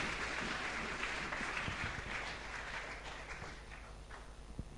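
A church congregation applauding: steady, dense clapping from many hands, sustained and moderately distant, gradually easing toward the end.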